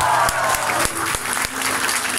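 Concert audience at a live show in Warsaw cheering and applauding, a dense, loud wash of clapping and crowd noise with a few sharper thumps cutting through.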